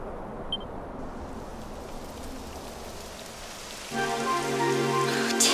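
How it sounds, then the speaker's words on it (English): Steady rain patters down continuously in a video game, Dragon Quest XI, then tonal music swells in over the downpour near the end. "It would have to go and start raining, wouldn't it?"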